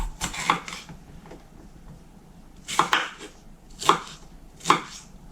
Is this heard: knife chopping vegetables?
yes